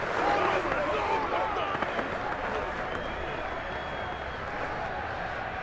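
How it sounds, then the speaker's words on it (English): Crowd applause and cheering in the Madden 22 football game during a Broncos at Giants matchup, a steady wide roar of clapping that holds for several seconds at even loudness behind a commentator's voice. "How about some applause for the defense there?"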